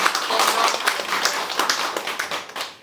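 Applause from the audience at a commemorative panel discussion, with individual claps standing out in an uneven, moderately loud patter that gradually loosens toward the end.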